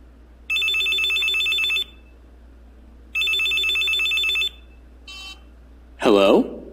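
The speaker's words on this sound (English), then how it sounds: "Listen to Brad's phone call" A telephone rings twice in long electronic bursts with pauses between, then a short chirp and a brief voice at the end.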